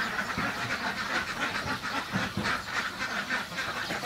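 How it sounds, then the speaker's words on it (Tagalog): A pen crowded with about 305 ducks on a Philippine duck farm fills the air with continuous overlapping quacking, a dense, fairly close chorus with no talk. "So ngayon, nandito tayo sa kulungan ng mga itik."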